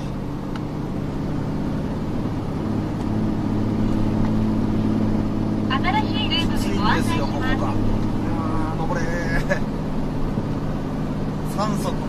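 A car climbs the Rokko toll road uphill with the accelerator floored at about 2000 rpm, its engine droning steadily in a low labored hum while someone talks over it.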